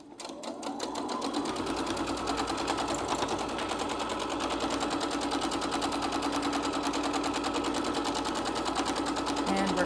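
A sewing machine runs steadily and fast while stitching quilt rows together on the final seam, a continuous rapid mechanical whir with a faint voice talking underneath.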